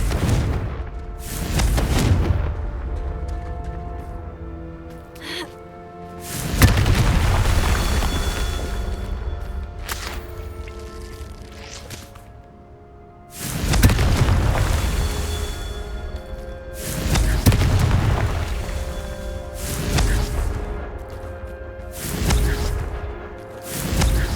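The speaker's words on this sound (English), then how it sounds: "Confringo!" Fire-spell explosions in the wizarding video game Hogwarts Legacy: four loud, booming blasts at roughly regular intervals, each with a long rumbling tail, over continuous game background noise.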